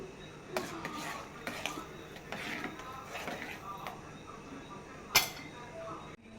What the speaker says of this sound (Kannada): ಇದಕ್ಕೆ ನಾವು ಮೆಣಸು ಮತ್ತು ಜೀರಿಗೆನ ಏನು ಪುಡಿ ಮಾಡಿ ಇಟ್ಕೊಂಡಿದ್ವಲ್ವ ಅದನ್ನು ಸೇರಿಸಿ ಮಿಶ್ರಣ ಮಾಡ್ಕೊಳ್ಳಿ